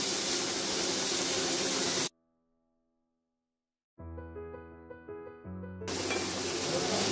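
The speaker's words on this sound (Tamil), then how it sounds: "இது வந்து ஒரு ஒன் மினிட் வரைக்கும் கொஞ்சம் வதங்கட்டும் கொஞ்சம் சாஃப்டானால் போதும்" Vegetables for an oats cutlet sauté in a pan with a loud, hissing sizzle at the start and end, broken by a silent gap and a stretch of tonal music.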